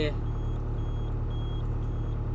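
A Kobelco 120 excavator runs with a steady, heavy diesel rumble close by, a faint repeating high beep riding over it, while someone talks over the engine.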